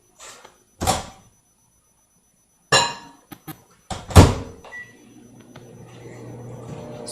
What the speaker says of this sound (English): I'm going to stick this in the microwave for about 2 minutes